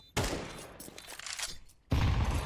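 AK rifle gunfire in a Counter-Strike 2 esports match: a dense burst of rapid shots, then a short lull, then another loud burst, close and sharp with no voices.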